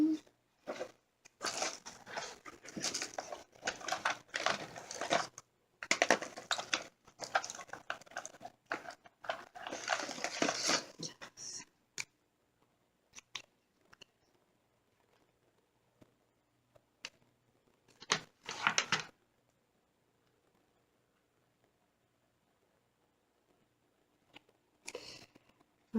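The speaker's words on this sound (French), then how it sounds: "je vais plier en deux mon carton" A cardboard sheet folded in half by hand for a homemade recipe book: close crackling and creasing in dense bursts for about twelve seconds, then mostly quiet with a few short crinkles later.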